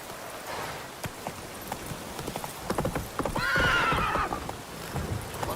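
Roach the horse in The Witcher 3 game: hooves clip-clop at a run, then a clear, fairly close neigh rises over the hoofbeats before the steps continue.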